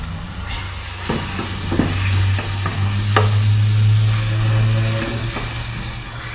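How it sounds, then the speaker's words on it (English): Saltfish being stirred into a sizzling frying pan in a Jamaican home kitchen, with a steady fry hiss under repeated scraping and clacking strokes of the utensil against the pan, fairly close and continuous. "Alright people, I'm gonna add in the saltfish."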